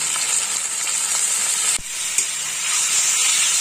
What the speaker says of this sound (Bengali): হলুদটা একটু ভেজে নেবো